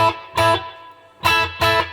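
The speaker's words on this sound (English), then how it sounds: "Let's get that reverb cranked." Electric guitar played through a WEM Copicat tape delay with the reverb cranked up, two pairs of loud strummed chords each trailing a long, washy tail between bursts.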